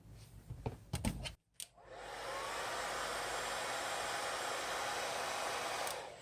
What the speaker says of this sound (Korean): 좌우 부분은 헤어 드라이기로 가열해서